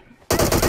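Automatic gunfire from PUBG Mobile bursts in abruptly after a quiet moment, a loud, rapid stream of shots continuing to the end.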